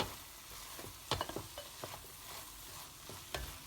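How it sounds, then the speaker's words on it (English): Mint and coriander leaves sizzle with ginger garlic paste in a hot pan for a Malabar chicken biryani, with soft steady frying and several sharper scrapes and clinks as a spoon stirs. "Saute it well."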